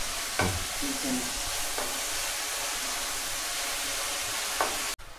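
Onions frying in a pan give a steady, close hiss of sizzling oil, with a few brief stirring scrapes, and the sound cuts off abruptly near the end.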